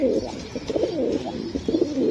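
Racing pigeons coo softly and repeatedly, low rolling calls overlapping one another close by, with no talking.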